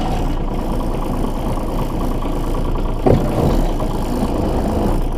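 A Kubota K-008 mini excavator's engine idles steadily while warming up, a close, even rumble with one brief louder knock partway through and no talking.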